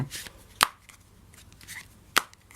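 A deck of playing cards being cut during a card trick: two sharp, crisp slaps of the cards about one and a half seconds apart, with faint rustling between them. The room is otherwise quiet and no one speaks.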